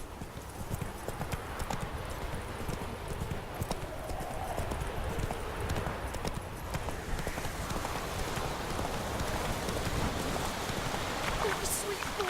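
In The Witcher 3, the horse Roach trots with a steady clip-clop of hooves against a background of rain, and a voice speaks over part of it.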